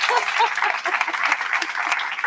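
Clapping from a teacher-training session audience, a brisk, fairly close patter of hands with a voice talking over it.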